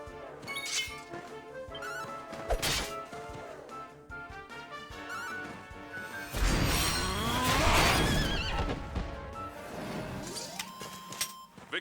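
A horse in Dragon Quest XI lets out a loud, drawn-out whinny during a battle, set against game music and clashing sound effects.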